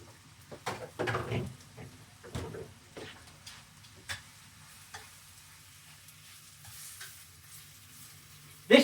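A stir fry sizzles in a pan while it is stirred, giving scraping bursts of stirring over a steady low frying hiss, busiest in the first few seconds and then quieter with scattered clicks.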